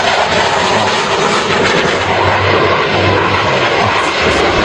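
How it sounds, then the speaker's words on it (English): Jet aircraft flying close-formation maneuvers, their engines a loud, continuous roar and whoosh that swells and shifts slightly as the planes pass, with no voices. "Can you hear the engines?"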